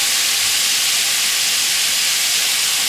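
Marinated, finely cut beef fillet sizzles in a hot frying pan, a loud, steady, close hiss that fills the kitchen continuously, with no talk.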